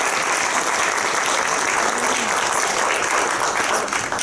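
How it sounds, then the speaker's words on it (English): Loud, close, sustained applause from an audience welcoming a speaker to the stage at a college event, a dense unbroken wash of clapping with no voices over it. "And now, with a warm round of applause,"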